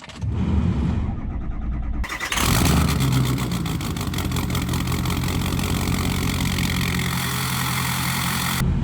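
A truck engine cold-starts after recent injector replacement: a brief crank, then it catches loudly around two seconds in and settles into a rough, steady idle close by, with no talking.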